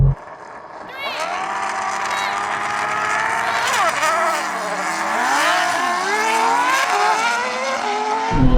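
F1 car, MotoGP bike and Porsche launching side by side in a drag race, a loud rising high-pitched engine whine climbing through gear changes, sustained and close for several seconds.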